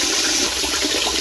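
Water heating in a kettle for morning coffee, a steady broadband rushing hiss with no breaks, fairly loud and close, with no voices.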